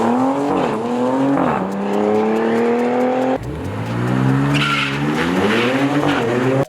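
A new Dodge Charger's engine revs loudly and steadily, its tone rising and falling through gear changes with a continuous strained, synthetic-sounding drone up close.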